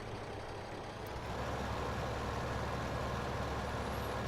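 A small tractor in Farming Simulator 15 pulls a seed drill, its engine a steady broadband drone that swells slightly louder after the first second and holds alone without talk.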